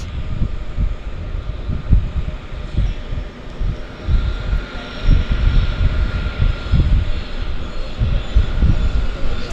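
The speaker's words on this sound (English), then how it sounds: "Here goes another Harbour Air Twin Otter off to Victoria" Harbour Air de Havilland Twin Otter turboprop seaplane taking off from a harbour, a steady rumbling engine drone with a faint high whine, fairly loud and continuous with no talking.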